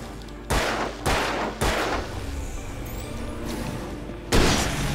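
Four sharp gunshots in the video game Alan Wake, the first three about half a second apart and a final one a few seconds later, over a steady low background hum.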